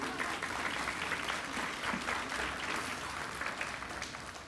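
Sustained applause from a graduation audience at a 2023 academy ceremony, steady dense clapping throughout with no talk over it.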